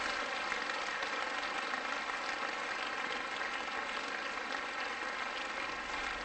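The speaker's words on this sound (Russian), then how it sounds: "Аплодисменты, пожалуйста" Steady, dense audience applause fills a concert hall at a seventh-anniversary gala, continuous and even throughout, with no voices standing out.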